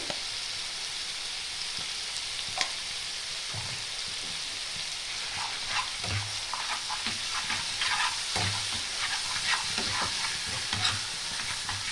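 Spices being stir-fried in hot oil for a pabda fish mustard curry: a constant close sizzle with occasional scrapes and taps of a stirring spoon in the pan.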